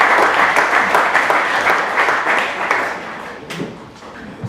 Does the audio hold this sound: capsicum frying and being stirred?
no